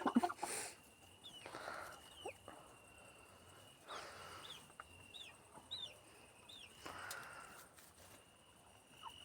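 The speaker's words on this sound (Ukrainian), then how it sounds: "Петушки начинают кукарекать, начинают топтать курочек." Roosters and hens cluck and fuss nearby in a coop with a few short crowing calls, over a steady background hum; no one speaks.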